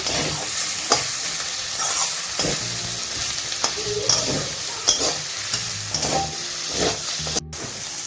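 Grated radish chechki stirred in a pan with black mustard paste and grated coconut, a steady sizzle under repeated scraping strokes of a spoon against the pan, close and fairly loud, with no talk.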